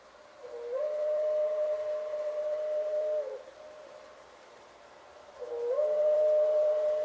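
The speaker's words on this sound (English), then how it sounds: "I love the horn, which is a Hancock air whistle." A Hancock air whistle horn on a model train sounds two long, steady, moderately loud tones, the first held for about two and a half seconds and the second starting near the end, with a quiet pause between.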